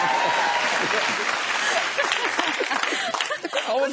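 Studio audience at a late-night talk show bursting into loud, dense applause, with voices talking over the clapping as it begins to thin toward the end.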